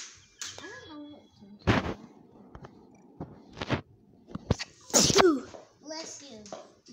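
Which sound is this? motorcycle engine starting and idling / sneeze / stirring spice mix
sneeze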